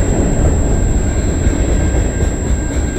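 CN freight train A425 rumbles past at close range, loud and continuous, with heavy low wheel roar and a faint high metallic squeal riding on top.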